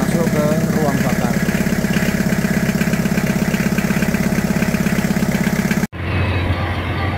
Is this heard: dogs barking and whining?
no